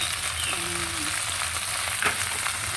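Bamboo shoots (labong) frying in a pan, a steady dense sizzle throughout with a brief stir or scrape near the end, no talking.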